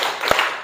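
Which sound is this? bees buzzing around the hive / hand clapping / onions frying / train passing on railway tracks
hand clapping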